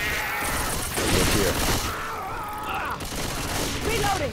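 Gunfire in Left 4 Dead 2 on Xbox 360, a dense rattle of rapid shots mixed with crashes and in-game chatter, loud and nearly continuous from start to finish.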